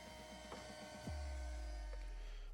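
A portable dehumidifier runs with a quiet, steady mechanical hum and faint tonal whine, broken by one soft low thud partway through.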